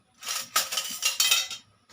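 A utensil stirs food around a pan in coconut oil, making several close, bright scraping and clinking passes in a quick rhythm, heard alone without talk.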